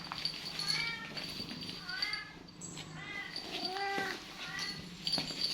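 Repeated meows of a stray cat, several rising and falling cries in close succession, heard fairly close over a low background murmur.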